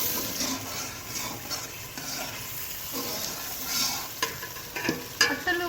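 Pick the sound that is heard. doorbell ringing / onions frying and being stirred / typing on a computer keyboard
onions frying and being stirred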